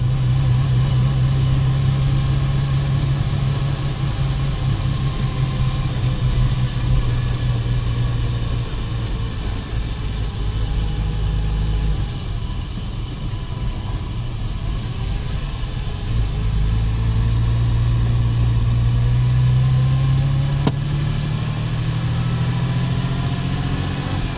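A Porsche Boxster with a freshly swapped engine drones steadily while driving, its pitch dropping and climbing again as it shifts up through the gears, loud and continuous from inside the car, with no talk.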